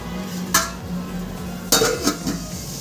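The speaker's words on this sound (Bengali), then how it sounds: "আমি এবার এটাকে একটু ঢাকা দিয়ে দেবো" Metal pot lid set down on a cooking pot of mango chutney, two or three sharp clanks and rattles standing out over a low kitchen background.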